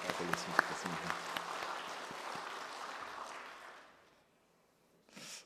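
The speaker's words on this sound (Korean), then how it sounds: "하나님께 우리 같이 영광의 박수 한번 돌렸으면 좋겠습니다." A church congregation applauds during a Korean worship service, a broad crowd of clapping hands with a few sharper claps on top, fading out after about four seconds into near silence before a voice begins.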